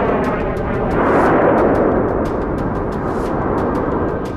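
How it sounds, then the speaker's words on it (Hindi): An explosion sound effect in a war news report rumbles loud and sustained, with repeated sharp crackling bursts layered over the roar, and nobody speaks. "और फिर जमीन पर जोरदार धमाका होता है,"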